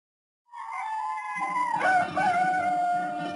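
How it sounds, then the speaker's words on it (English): A rooster crows at a mission in the Amazon, one long clear call that rises and then falls away over about three seconds, sounding a little distant, with a faint rumble of background clucking under it and no talk. "And then the sound of the crowing of a cock, the cock at the mission."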